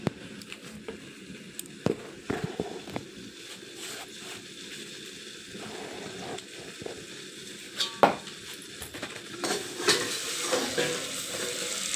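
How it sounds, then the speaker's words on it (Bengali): Potatoes for aloo bhaja fry in a pan with a steady low sizzle, broken by scattered clinks and scrapes of stirring, including a few sharper knocks near the end; no one speaks. "আর এখন আমাদের জন্য আলু ভাজা করছি, দেখতে থাকো এখানে।"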